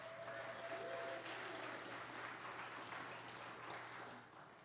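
A congregation applauds warmly for several seconds, the dense clapping holding steady before tapering off near the end.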